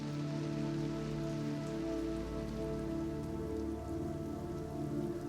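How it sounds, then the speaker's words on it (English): Soft, continuous patter of light rain falling steadily on a surface, with a low steady hum underneath. "The rain was calm and drizzly."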